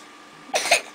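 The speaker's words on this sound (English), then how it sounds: "We were up all morning with this cough." A child gives a short double cough, close and fairly soft, in a quiet room with no talking.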